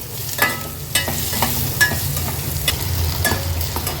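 Crushed garlic, green chilli and finely chopped onion sizzle in hot tempering oil for a Maharashtrian red masoor dal amti, with repeated spoon clicks as the mix is stirred.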